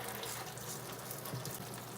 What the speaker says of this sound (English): turn the water back on a little bit here